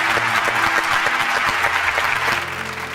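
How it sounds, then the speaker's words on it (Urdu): A large audience breaks into loud, dense applause for Iranian air force pilots at a Quran recitation TV show, the sustained clapping filling the room before easing slightly at the end. "آئیے فضائیہ کے ان جابازوں کے نام زوردار تالیاں ہو جائیں"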